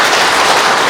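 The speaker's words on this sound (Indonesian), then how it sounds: "tepuk tangan buat Tuhan Yesus" A church revival crowd claps for Jesus in a dense, loud burst of applause that fills the whole brief moment without pause.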